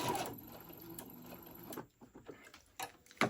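A sewing machine stitches around the corners of a ruffle-trimmed tote bag, its motor whirring steadily in short runs broken by brief pauses and a few light mechanical clicks, close and alone.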